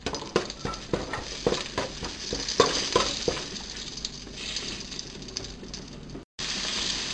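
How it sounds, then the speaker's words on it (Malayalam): Whole spices (cinnamon, cloves, cardamom, bay leaf, nutmeg) stirred in hot ghee for Kozhikode chicken biryani, with a soft sizzle under a run of sharp, closely spaced scraping taps of a spoon in the pan, loud and near. "പട്ട, ഗ്രാമ്പു, ഏലക്ക, ബേ ലീഫ്, ജാതിക്ക ഇതെല്ലാം ഇട്ട് കൊടുത്തിട്ട് ഒന്ന് ഇളക്കണം."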